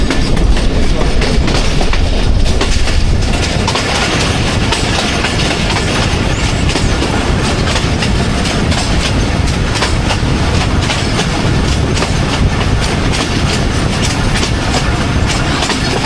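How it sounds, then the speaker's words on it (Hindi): The Thall Express passenger train rolls on rails as it pulls into a railway station, with loud continuous rumbling and rhythmic clickety-clack of wheels heard close up from inside the train throughout. "मखट रोड रेलवे स्टेशन पर पहुँच रही है जी ट्रेन हमारी।"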